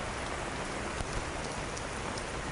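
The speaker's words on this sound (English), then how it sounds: "this rain has just not stopped or let up. It's very on and off, very heavy." Heavy rain pours down during flooding in New York City, an unbroken, close hiss of dense drops striking hard surfaces with no voices over it.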